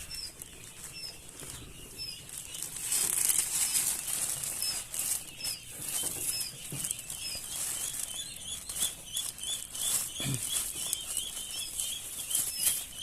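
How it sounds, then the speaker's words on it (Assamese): Farmed quail in a pen during winter flap their wings among scattering feed. Repeated short fluttering bursts and light pattering come up close over a quiet background, with no one speaking. "তো মই এতিয়া কইল চৰাই লৈ আহিছোঁ। এতিয়া সিহঁতে দেখিছে খাই আছে"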